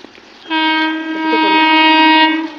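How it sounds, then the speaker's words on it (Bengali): An arriving train sounds a loud, sustained horn blast lasting about two seconds, rich and steady, heard close with little else around it. "আর একটা ট্রেন ঢুকছে।"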